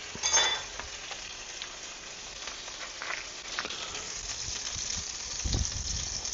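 Butter crackles and sizzles in a hot pan, a soft steady hiss with occasional pops and clinks, fairly quiet and close.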